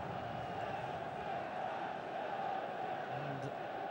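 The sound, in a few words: football crowd buzzing before kickoff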